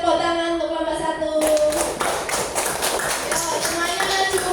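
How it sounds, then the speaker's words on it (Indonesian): Children clapping for a group in a classroom, a burst of quick hand claps starting partway in and continuing steadily with voices around. "Beri tepuk tangan untuk kelompok 1"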